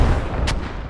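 Artillery shells rumble and boom onto an objective in the video game Squad, a deep continuous roar with a brief sharper crack midway, loud and close.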